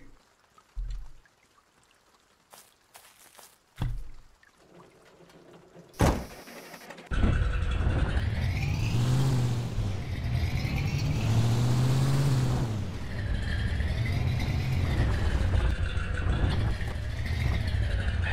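A junkyard truck's engine climbing a hill in the video game Junkyard Truck, starting after a few scattered knocks and clicks, then roaring loudly and steadily while its pitch swells and dips as it labours upward.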